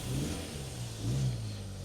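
A classic Mini car engine revs steadily while driving, a close, continuous mid-pitched drone that rises and falls slightly over a couple of seconds.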